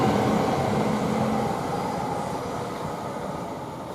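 Class 730 electric trains passing through Watford Junction on the West Coast Main Line: a steady broadband roar of rolling stock that eases off slightly, with no voices.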